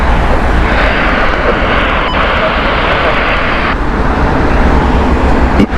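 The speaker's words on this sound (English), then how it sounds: "Our next flight inbound is British Airways, the Orlando flight." British Airways airliner inbound from Orlando arriving at Heathrow Airport, a loud, steady broadband jet roar filling the whole stretch, with a brief tonal change partway through and a faint voice in the background.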